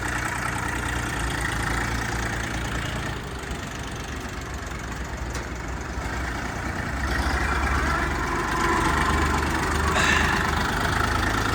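A mini tractor built for orchards and greenhouses idles with a steady, loud, knocking engine rumble close by, holding an even chug throughout, with no voices.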